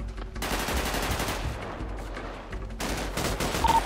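Sustained automatic gunfire in the GTA 5 roleplay game, a dense continuous fusillade of rapid shots that fills the clip loudly, with a brief lull near the start and no talk over it.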